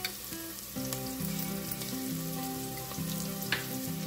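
Garlic ginger paste dropped into hot oil with a pinch of asafoetida while cooking Maharashtrian moth bean curry, a steady crackling sizzle with a faint tonal hum underneath and occasional sharp pops.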